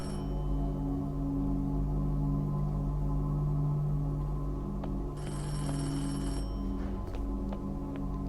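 Telephone ringing in the woods, a steady repeating bell tone that sounds loud and present over a constant low humming background, with a brighter burst of ringing partway through.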